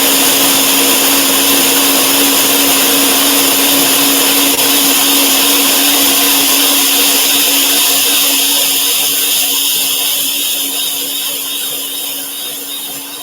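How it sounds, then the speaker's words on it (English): A high-power blender whirs loudly and continuously as it blends an anti-plague formula in a kitchen, a steady motor drone that eases slightly toward the end with no talking. "Just put it in your blender, and it's pretty loud"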